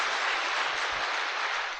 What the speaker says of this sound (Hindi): ताली ठहर के बजाना